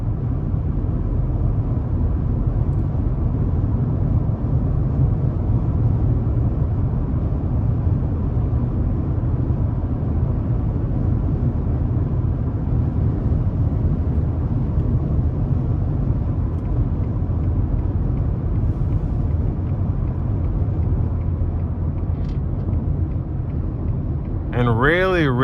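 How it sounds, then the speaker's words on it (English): A 2021 Ford F-150 XL regular cab truck with a 5.0 V8 cruises on the interstate at close to 80 mph, giving a steady low engine and road rumble inside the cab throughout, with a brief voice near the end. "Really good for a V8 engine, cruising at almost 80 miles an hour."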